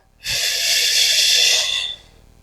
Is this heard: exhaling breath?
yes